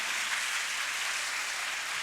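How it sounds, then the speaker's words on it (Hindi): Steady audience applause for children on stage at a summer camp certification ceremony, a dense, even patter of clapping hands sustained throughout without a break. "Please give them a big hand."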